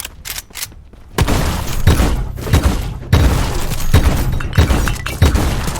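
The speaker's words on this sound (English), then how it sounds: "Actually kind of funny that I'm able to shoot up the stairs" Pistol gunfire in the video game Black Skylands: a run of loud, punchy shots at a steady rhythm, each with a sharp crack and low thud, firing close by in quick succession.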